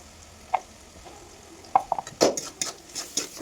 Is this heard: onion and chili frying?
yes